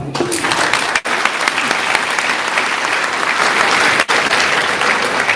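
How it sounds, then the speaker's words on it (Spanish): An audience at a Catholic-versus-evangelical church debate breaks into loud, sustained applause for a speaker, a thick wall of clapping with two brief dips. "Un aplauso para el hermano."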